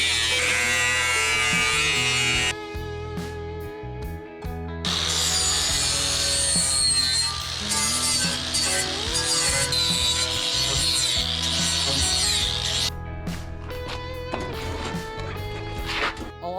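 A power grinder cuts a slot into metal on a 1950s Shriners car under restoration. It whines loudly in long sustained bursts with short pauses between passes.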